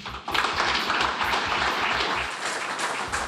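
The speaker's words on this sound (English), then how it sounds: "Lots of applause, lots of excitement for the new Alabama baseball coach, Greg Goff" Dense, steady applause from a crowd welcoming the new Alabama Crimson Tide baseball coach, Greg Goff, close and sustained throughout with no voices.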